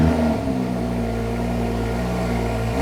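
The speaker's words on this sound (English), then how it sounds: "we're gonna give it just a couple revs so you can hear how it sounds" A BMW SUV engine runs steadily with a deep, throaty rumble, rising slightly in pitch as it revs briefly near the start; close and loud, no talking.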